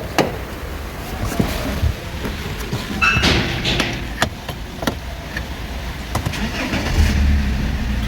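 A car engine at a repair garage cranks over and catches, then is revved hard at full throttle. The revs are loud and close, with sharp mechanical clatters along the way.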